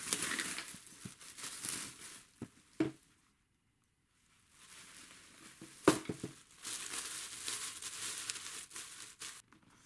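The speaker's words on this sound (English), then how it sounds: "Take the plastic off of there." Plastic wrap being peeled off a Rockland softside carry-on, bursts of crinkling and rustling with a few sharp crackles and a short quiet pause partway through.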